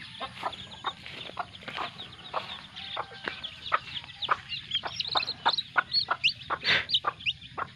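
Chicks peeping in quick, high, repeated chirps close by, growing busier and louder toward the end, with a faint farmyard hum underneath.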